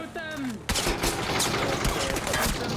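Dense bursts of gunfire rattle through a PUBG match, a rapid volley of loud close shots starting abruptly and continuing steadily, with a voice briefly heard just before the shooting begins.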